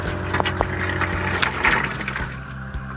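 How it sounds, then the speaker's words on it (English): A water pump runs beneath a campervan sink in a Renault Trafic conversion, sending water through a bespoke copper tap into a basin made from a French jam pan; a steady close hum and gush with liquid splashing throughout. "And if I just turn the water pump on,"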